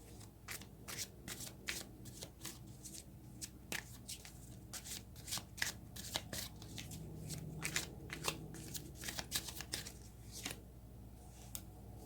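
Tarot cards shuffled by hand in quick repeated riffles and soft slaps, a crisp close rhythm of card snaps over a low background hum, with no talking.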